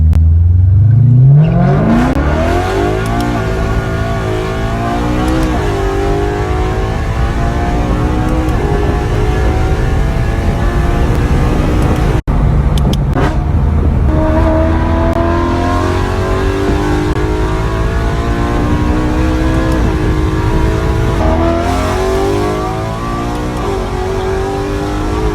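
A car engine with a dual-clutch (DCT) gearbox revs hard toward redline again and again, loud and close, with quick rising pitch sweeps as each gear clicks through and no talk.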